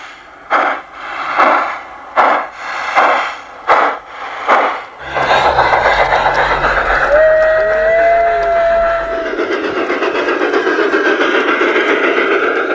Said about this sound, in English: The first large-scale train with built-in sound effects.